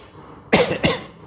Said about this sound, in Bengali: কাশি এসে গেল